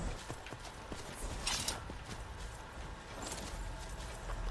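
Horse hooves clip-clop in the Skyrim video game, a steady string of soft near footfalls under a dense wash of ambient game sound, with brief brighter swishes but no talk.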